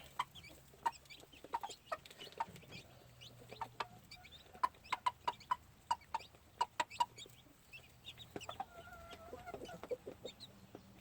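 Gentle gamefowl hens cluck around their chicks in a farmyard, giving sharp, scattered clucks and pecking clicks in irregular runs, with soft chick peeps and low murmuring calls, fairly close.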